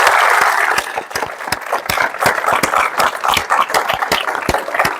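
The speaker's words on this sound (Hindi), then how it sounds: "जोरदार तालियां।" Loud applause from an audience at a talk on navy training, dense clapping from many hands at first, then settling into distinct claps with some crowd noise.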